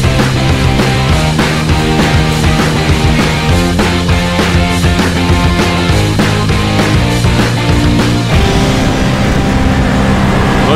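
A car drives along a road in Pattaya, its steady engine and road noise continuous under loud music playing inside the cabin.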